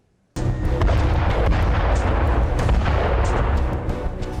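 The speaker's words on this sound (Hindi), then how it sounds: "ये चालबाज चीन की सबसे विध्वंसक तोप है, ड्रैगन आर्मी का हाईटेक हथियार" A Chinese artillery gun fires with a sudden loud blast, followed by a sustained heavy rumbling roar and crackling that continues to the end without fading much.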